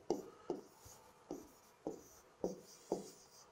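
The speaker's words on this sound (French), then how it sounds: "Bon, je vais les écrire." Mathematical formulas handwritten on a surface produce soft, close scratching strokes, about six short separate marks spaced irregularly, faint and without talk.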